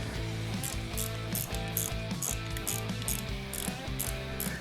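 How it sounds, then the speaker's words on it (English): An 8mm ratchet spanner clicks in rapid, steady bursts while fitting a one-finger clutch on a CFMoto 800MT, its close, crisp pawl ticks repeating in regular strokes with no talk. "I'll just come back with my 8mm ratchet spanner"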